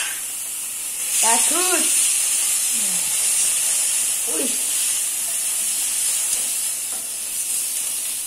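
Spice paste with shallots hitting a hot pan for mie gomak, a steady loud hiss and sizzle throughout, with a voice speaking briefly over it.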